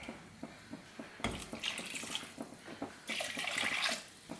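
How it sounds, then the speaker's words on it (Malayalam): Water pours into a thick Kerala-style fish curry gravy (meen mulakittathu) in a pan, a running, splashing gush that swells and fades in bursts, louder toward the end, with no voices. "നമുക്ക് ഇതിലേക്ക് ആവശ്യത്തിനുള്ള വെള്ളം ഒഴിച്ചു കൊടുക്കണം"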